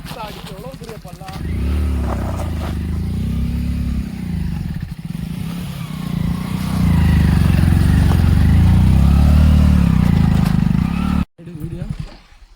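Motorcycle riding a rough, unpaved mountain road near Madurai, its engine droning and revving unevenly with rattles and scrapes from the bumpy surface, under someone speaking, before cutting off abruptly near the end.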